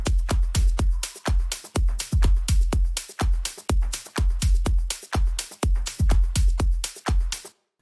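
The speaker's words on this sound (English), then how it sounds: "Our drums in total sound like this." Complete melodic house drum loop built with Ableton stock plugins: punchy kicks on a steady four-to-the-floor pulse with shakers and an open hi-hat riding above, loud and continuous.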